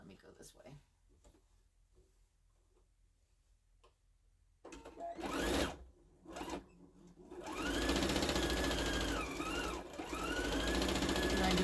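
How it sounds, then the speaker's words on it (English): Home sewing machine stitching a mini Christmas skirt with backstitching: quiet handling first, then short motor runs and a loud sustained whirring stitch with pitch shifts as it reverses, while a person talks over parts of it. "I'm gonna backstitch on both because you wanna pull it through."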